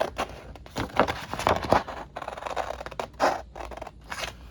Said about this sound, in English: you're gonna get your scissors out and you're gonna cut this